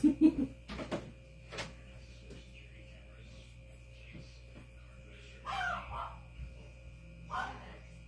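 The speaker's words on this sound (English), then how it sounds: "That's one dog downstairs that goes crazy every time I do everything. Anything I do. She just started barking." One dog barks from a room downstairs, a few sharp barks near the start and a couple more bursts later, faint and distant against a quiet indoor background.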